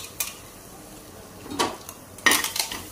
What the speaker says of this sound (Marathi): बघा मी आता हे सगळं असं भाजून घेते, सगळं लाल लाल